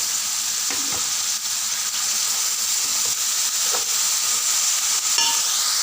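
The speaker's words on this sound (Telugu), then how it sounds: "ఇప్పుడు సన్నగా తరిగి పెట్టుకున్న ఉల్లికాడలు వేసి బాగా కలపాలి" Chopped spring onions sizzle steadily in a pan of frying egg curry, with a few soft scraping stirs breaking through the continuous hiss at close range.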